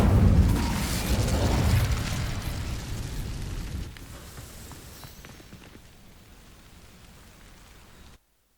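An Incendio fire spell bursts in the Hogwarts Legacy video game, a loud roaring whoosh of flame that crackles and slowly fades over several seconds before cutting off.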